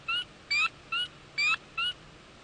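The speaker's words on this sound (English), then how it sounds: "the sound of that vocal that you heard is from our spring peepers" A spring peeper frog gives five short, high, clear whistled peeps in a steady rhythm, about every two fifths of a second, loud against a faint background with no voices.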